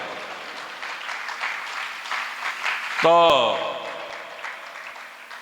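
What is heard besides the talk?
audience clapping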